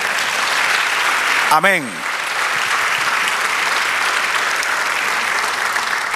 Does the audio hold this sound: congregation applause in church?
yes